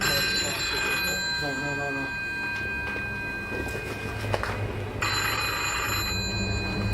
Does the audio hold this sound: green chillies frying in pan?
no